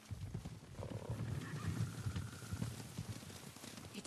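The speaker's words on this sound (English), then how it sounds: "Horses, they're coming for us." Horses approaching in the video game Ghost of Tsushima, a low rumbling stampede of hooves with faint snorts and whinnies, distant and quiet throughout, with no talking.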